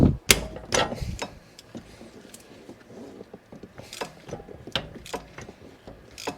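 Ratchet wrench loosening bolts on a Mercedes V12, sharp clicking ratchet strokes in irregular bursts with clanks and pauses between them, close and fairly quiet.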